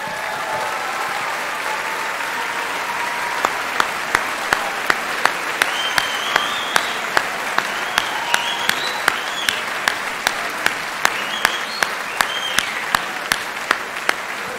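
A school Christmas concert audience applauds for a long stretch, a broad wash of many hands clapping in a hall, with a few sharper, more distinct claps standing out over the steady crowd sound.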